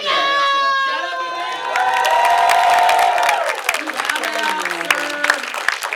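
Audience at an RTX convention panel cheering, whooping and clapping loudly, a continuous crowd roar with shouts rising over sustained applause throughout.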